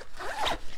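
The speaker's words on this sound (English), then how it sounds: "the main compartment which zips open" A zipper drawn open on the main compartment of a personal item travel bag, one short close rasping pull, fairly quiet.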